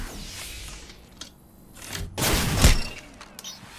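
Gunfire in the Apex Legends video game: a short burst of sharp shots cracks loudly in the middle, followed by softer scattered thumps.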